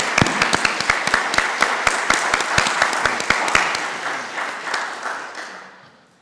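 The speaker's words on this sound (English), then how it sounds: "Let's give a round of applause." An audience applauds at a public talk, starting with loud, sharp, close individual claps that blend into steady clapping and then gradually fade out.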